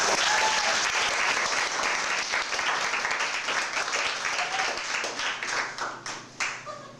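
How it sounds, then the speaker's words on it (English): An audience at a magic show applauds a volunteer, dense loud clapping that starts full and gradually thins toward the end into a few scattered claps. "Everybody give Jeremy a round of applause."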